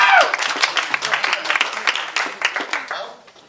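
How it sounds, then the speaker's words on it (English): Lively applause from a crowd at an outdoor campaign kickoff event on a farm, close, irregular clapping that is loud at first and gradually thins out, with a voice briefly heard at the start. "Please grant him your attention and give him a round of applause."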